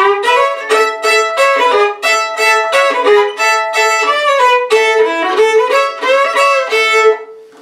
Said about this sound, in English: the intro, which is played on a solo unaccompanied guitar and sounds something like this